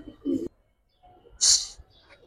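High flyer pigeons coo in brief low bursts, followed by a sharper call, close and fairly quiet with pauses between sounds.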